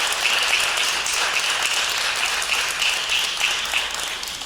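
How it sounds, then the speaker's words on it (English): Sustained audience applause at a luncheon anniversary celebration, a dense, even wash of many hands clapping from a large room, steady throughout with no break or talk. "Let's give him another round of applause."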